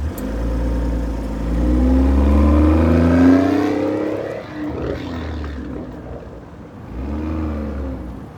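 A modified BMW M340i of about 800 hp is driven slowly to turn it around, its engine droning and rising in pitch as it pulls away, then easing off and revving up briefly again, loud and close with no talking.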